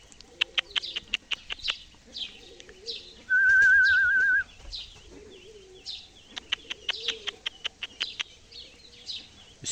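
Pigeons coo and call in a loft, soft throaty coos repeating alongside sharp chirps and a few wing flaps, with a steady whistle-like tone sustained for about a second in the middle.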